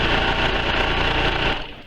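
A sewing machine stitching a quilt practice sandwich at a quarter-inch seam, a fast rhythmic mechanical chatter running steadily before tapering off at the end.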